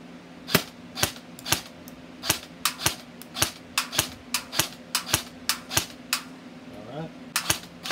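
A GI Custom airsoft rifle fires a rapid string of sharp semi-auto snaps outdoors, about twenty evenly spaced shots over eight seconds with a steady mechanical hum underneath.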